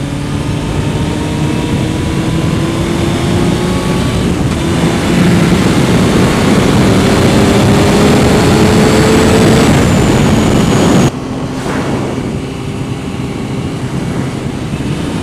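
A Suzuki GSX-R 750 sport bike being ridden, its engine droning steadily with slowly rising and falling pitch as it accelerates, loud and close under heavy wind rush, briefly easing off near the end.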